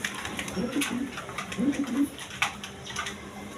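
A male King pigeon, large show bird at a pigeon market, gives a few soft low coos in short bursts under a background of voices and market bustle.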